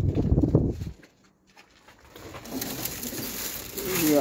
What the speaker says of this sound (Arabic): هسه عندنا الحمام البيوض